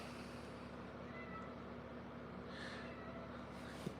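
A house cat meows indoors, faint brief calls rising above a quiet steady hum of background noise.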